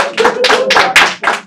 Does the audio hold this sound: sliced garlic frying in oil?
no